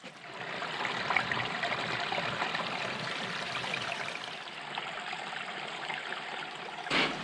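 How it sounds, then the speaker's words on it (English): A small forest brook feeding a larger branch runs through a gully, a steady rushing and babbling of water heard close by with no voices. "So we're just crossing Fen Brook here, which is a feeder to the Branch Brook."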